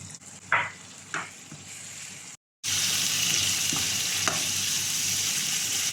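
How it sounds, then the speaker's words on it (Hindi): Chicken fries in masala for a desi-style chicken fry, with a steady close sizzle broken by a few louder scrapes and splutters as the pieces are turned, plus a brief cut to silence midway. "चिकन को अलट पलट करते हुए मसाले में अच्छी तरह से भून देंगे"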